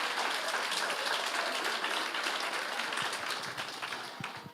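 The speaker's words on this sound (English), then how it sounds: "Big round of applause to everyone who submitted photos." At an emergency care conference in Vietnam, the audience breaks into a full round of applause, a dense sustained patter of many hands that tapers slightly toward the end, with no voices over it.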